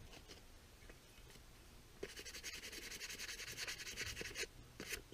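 Sandpaper rubbed back and forth across the wooden end grain of an axe handle, first in quiet scattered scrapes, then in fast rhythmic strokes that grow louder and denser, close by and soft overall, with no one talking.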